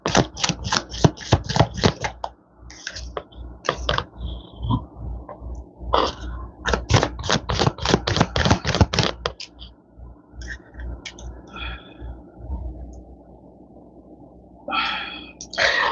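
Tarot cards are shuffled and pulled in quick riffling bursts, with clusters of crisp snaps separated by short pauses, close and fairly loud.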